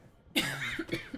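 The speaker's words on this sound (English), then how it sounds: "I did not expect that to be the cough that came out." A single sudden cough erupts, close and loud, after a moment of near silence, trailing into a rough throaty tail with a second smaller burst near the end.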